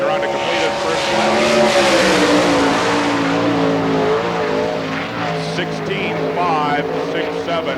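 A sprint car at the All Star Circuit of Champions Spring Nationals in Hartford, Ohio roars around the dirt oval on its first lap, a loud sustained engine drone that rises and falls in pitch, with a voice talking over it.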